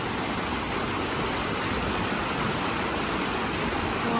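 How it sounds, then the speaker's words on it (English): The first waterfall in Jonkershoek Nature Reserve pours as a steady, dense roar of falling water, loud and unbroken throughout with no voices over it. "We have arrived in our destination, first waterfall."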